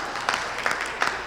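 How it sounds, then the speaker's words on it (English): Wedding guests clap at a reception in Las Vegas, a light scattered patter of hands with a few sharper claps standing out, moderately close and brief. "Go ahead, clap, clap,"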